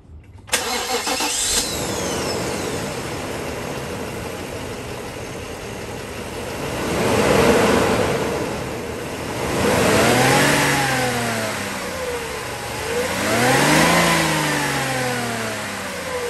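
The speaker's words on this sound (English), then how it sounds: "Let me turn it on, we can hear it run." A 5-liter V8 in a 1999 Mercedes-Benz S500 W140 cranks and fires up, then settles into a smooth idle with two or three rising and falling revs, heard close and without talk.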